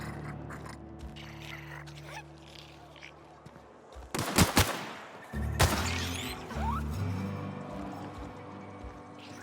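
Bursts of gunfire in the video game The Outer Worlds, a loud cluster of shots around the middle followed by a second volley, set over a steady low ambient game hum with sparse background sounds.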